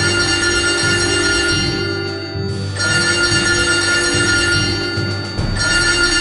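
A telephone bell rings loudly and continuously in repeated bursts with short gaps, a bright metallic trill heard alone without talk, played as a cartoon-style bug phone.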